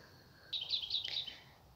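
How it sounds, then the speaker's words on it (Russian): Small birds chirp briefly outdoors in a garden, a faint, distant burst of high tweets lasting about a second over quiet background. "Птички поют."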